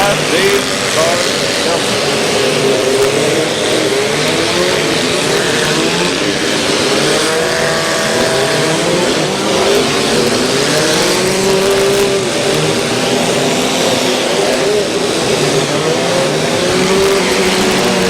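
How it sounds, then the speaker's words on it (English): Mini cars roaring and revving together at a county fair demolition derby in Portage County, a loud, steady wall of engine noise with an announcer talking over it throughout. "they're going to be off and running here at the Smash It, Crash It, Tear 'em Up Automobile Mini Car Demolition Derby event"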